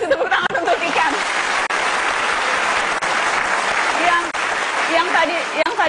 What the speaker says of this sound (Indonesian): kasih tepuk tangan untuk Kikan.